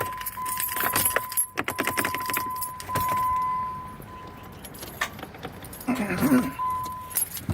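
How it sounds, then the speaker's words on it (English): A key jangles as it is pulled from and pushed back into a Jeep's ignition, with the engine not turning over; metallic rattles and clicks sound close up alongside a steady chime and a brief voice. "Take the key out of the ignition, in, nothing."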